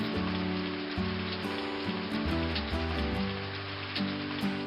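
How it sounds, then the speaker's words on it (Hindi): Heavy rain pours steadily during the rainy season, a dense continuous hiss with low tonal elements running underneath throughout. "इस बार बारिश बहुत अच्छी होती है।"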